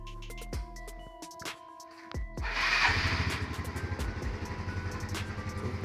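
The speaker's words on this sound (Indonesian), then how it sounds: "Kondisi mesin masih halus ya teman-teman" A used motorcycle engine runs at idle after a few starter attempts, a steady close rumble with a faint periodic pulse throughout.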